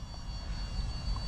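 An Esky 150EC mini RC helicopter whirs under heavy throttle, a steady low rotor drone with a thin high engine whine on top, close and unbroken through the short stretch.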